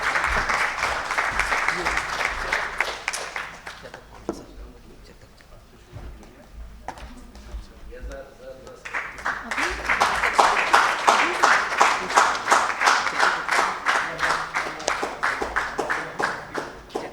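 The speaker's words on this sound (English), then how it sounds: "Can we have a huge round of applause for R.K., sir?" An awards-ceremony audience claps for a former Rajya Sabha member, loud dense clapping that dips to near quiet midway, then swells again into strong, rhythmic applause.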